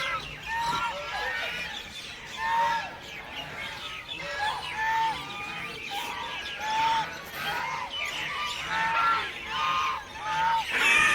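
Ducks quack in repeated, overlapping honking calls beside a canal on a foggy day in Punjab, a steady outdoor chorus at moderate distance.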